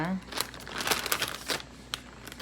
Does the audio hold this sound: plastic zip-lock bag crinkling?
yes